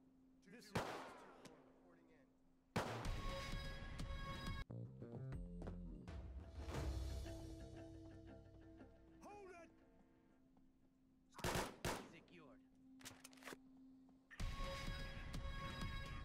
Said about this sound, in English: I got clear signs of shooting here.